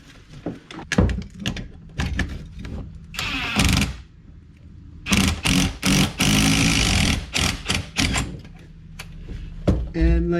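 On a Saab 9-5 trailing arm, a puller draws the old bushing out, producing a sequence of close metallic clunks, thuds and scraping bursts along with some intermittent talk.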